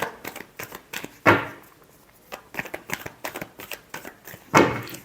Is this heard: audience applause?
no